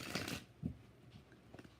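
Tarot cards being shuffled in quick papery bursts, a longer riffle at the start followed by a few softer short shuffles, quiet and close with no voices.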